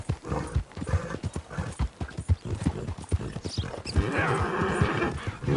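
Horse in Red Dead Redemption 2 with rapid clip-clopping hooves throughout, then a loud whinny near the end, all close and clear.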